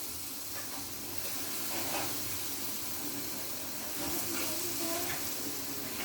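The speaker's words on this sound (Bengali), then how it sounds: "আমি এখন গরম তেলের মধ্যে বড়াগুলো দিয়ে দিচ্ছি" Palm fruit fritters fry in a pan of hot oil, giving a steady, loud, close sizzle that runs the whole time, with faint talk under it.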